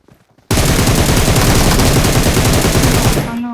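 Sustained burst of automatic gunfire in the video game PUBG, loud and continuous for about three seconds after a brief quiet start, rapid shots blending into a dense roar.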